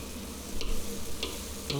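Chunjang black bean paste stir-fried in a restaurant kitchen pan, a steady close sizzle with a few brief scraping stirs over about two seconds, no voices.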